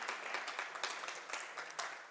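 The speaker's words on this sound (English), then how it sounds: "Please give him a round of applause." An audience claps at an event honoring a Korean veterans' alliance chapter, a soft, fairly distant patter of many hands with faint rhythmic accents, no speech heard.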